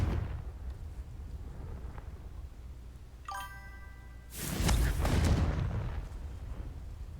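A Confringo spell explosion in Hogwarts Legacy: a short ringing chime gives way to a heavy, loud booming blast that rumbles and fades over the quiet ambient game background.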